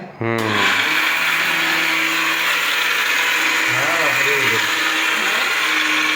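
A mixer grinder starts abruptly and then runs as a loud, steady, high-pitched whine while grinding rice flour at home, continuing without a break, with a voice briefly talking over it partway through.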